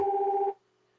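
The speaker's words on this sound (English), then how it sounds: "My apologies for the phone ringing in the background that you might all be hearing right now." A telephone rings in the background as a single half-second electronic tone burst that cuts off abruptly into near silence.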